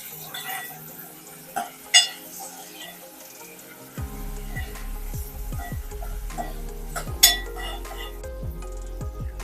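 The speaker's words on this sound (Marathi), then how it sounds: "कांदा टोमॅटो सोबत दोन ते तीन मिनिटांसाठी फुल गॅसवरती परतून घ्यायचे आहे" Dried fish sautéed with onion and tomato in a pan on high flame, a steady sizzle with a spoon scraping and clinking against the pan, under occasional soft background sounds.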